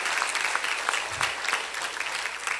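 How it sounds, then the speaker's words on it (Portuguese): Worshippers at a church service applaud, a dense steady patter of many hands clapping at a moderate level, filling the room with no speech on top. "Aplaude Ele por isso."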